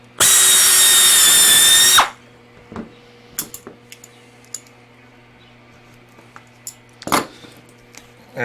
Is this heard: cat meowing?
no